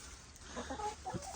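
Chickens clucking on a snowy farm, a few soft, brief clucks and low murmurs close by over a faint background hiss, quiet and scattered within a second or so.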